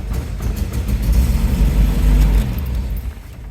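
An MGB GT engine, faulty and struggling, runs with a rough low throb that swells as the accelerator is pressed, then falters and fades away as the engine stalls, heard close and without talk.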